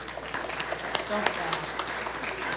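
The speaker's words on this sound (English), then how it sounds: "Thank you, but you don't need to clap." Scattered applause from a small audience at a studio celebration, light clapping that carries on under a voice speaking over it.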